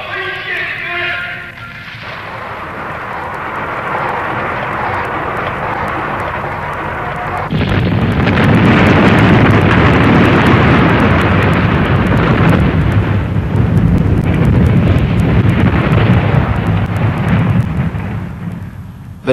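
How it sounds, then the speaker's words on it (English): China's first nuclear weapon detonation in 1963, heard as a deep, loud, roaring rumble that swells abruptly after a brief voice and quieter opening, then rolls on continuously to the end. "Yet in 1963, without Russian help, China detonated her first nuclear weapon."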